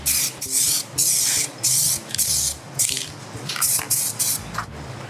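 POR-15 detail spray paint hissing from an aerosol can in short repeated bursts, about eight quick close sprays with brief pauses and faint rattles between them.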